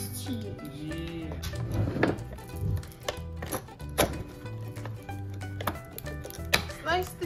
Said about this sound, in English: Slice the cheese